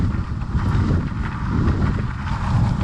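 Strong headwind roars across the microphone while riding a Pantheon Pranayama board on rough pavement, a steady loud low buffeting rumble that swells and gusts throughout.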